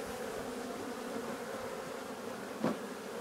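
Honey bees buzz around an open hive during harvest, a continuous close droning hum with one brief louder knock or scrape near the end.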